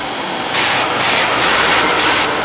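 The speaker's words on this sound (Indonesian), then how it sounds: "ini disemprot seperti ini ya." Cleaner sprayed into a clogged motorcycle oil passage, heard as a loud aerosol hiss in repeated bursts with brief gaps between, close up and with no talk.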